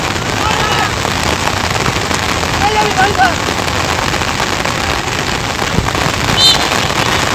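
Heavy rain pouring over an outdoor football pitch during a match, a dense, steady hiss of downpour with faint whistles and calls buried in it.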